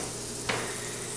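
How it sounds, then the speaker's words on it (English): Butter sizzling in a hot grill pan, a steady close crackling hiss with one brief scraping stir in the middle, no voices. "I'm going to get some butter on there. You can see it's already sizzling."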